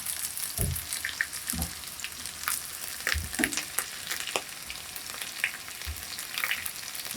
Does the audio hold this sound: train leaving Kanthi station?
no